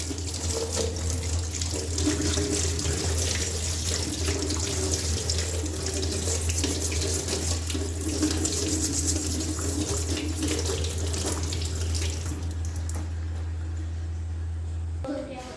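A gas stove burner being washed under a running kitchen tap, water gushing steadily and loudly into a sink for the whole stretch, with a voice speaking over it.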